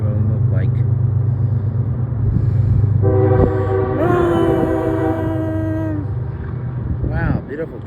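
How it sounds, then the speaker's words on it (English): An eastbound CSX mixed freight train sounds its horn, a loud sustained chord blast near the middle over a steady low rumble of the passing train. "Wow, beautiful train horn sound."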